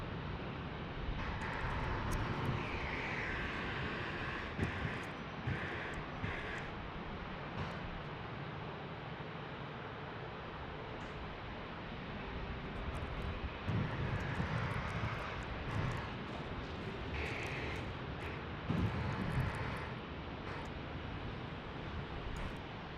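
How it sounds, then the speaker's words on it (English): An American Airlines airliner arriving from Charlotte passes at an airport in San Diego, its engines a steady, moderately distant roar that swells slightly near the end with no talk over it. "There's American Airlines in from Charlotte."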